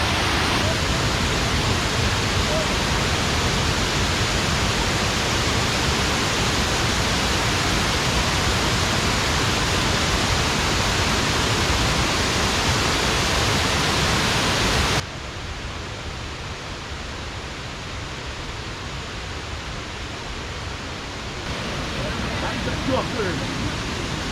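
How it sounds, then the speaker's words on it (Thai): Kuang Si waterfall near Luang Prabang, Laos, roaring as a constant broadband rush of falling water, loud and close throughout, dipping slightly in level partway through without any speech. "ฟังเสียงน้ำตกครับ"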